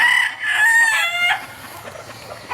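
An imported Raptor Sweater gamefowl rooster at a game farm crows once, a drawn-out close call, followed by quieter farmyard clucking in the background.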